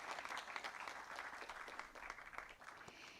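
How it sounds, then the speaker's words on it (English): Dense audience applause welcoming a panelist at a film festival panel session on cinema distribution, steady continuous clapping from many hands, fairly distant and soft throughout. "Let's give a huge round of applause to him and welcome him."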